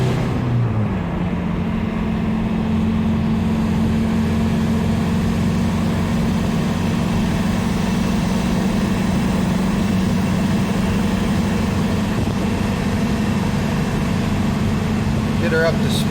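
Steady low drone of a TDI-swapped diesel Toyota truck pulling a car hauler loaded with a 1973 Scout II, held in third gear, constant engine hum from inside the cab with someone talking over it.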